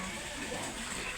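Water flowing inside an earth mound on a trip to Ilaveezhapoonchira, a continuous rushing trickle heard close up, with no speech over it.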